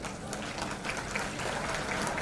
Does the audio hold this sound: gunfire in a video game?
no